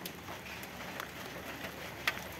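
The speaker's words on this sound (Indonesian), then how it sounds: "ini hujannya udah turun" Rain falls steadily around a parked Honda Civic Wonder SB4, a soft continuous patter with scattered drop taps and one sharper hit near the end.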